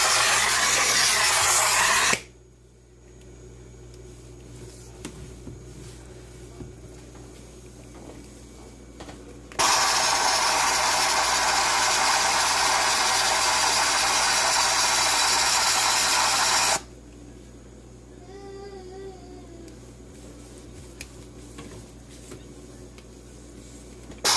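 A McCulloch MC1385 deluxe canister steam cleaner runs with a steady loud hiss that starts abruptly, holds for about seven seconds and cuts off, with a shorter burst at the start and quieter mechanical ticking in between.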